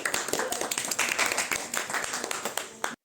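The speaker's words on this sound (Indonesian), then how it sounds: "Tepuk tangan dulu ya." A few people in a podcast studio clap close to the microphone, giving sharp, uneven hand strikes for nearly three seconds before the sound cuts off abruptly.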